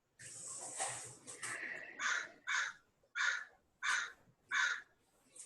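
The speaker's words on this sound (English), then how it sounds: "Did you hear that bird?" A crow-like bird gives a series of five harsh, evenly spaced caws, loud and clear, following a brief hissing rush at the start.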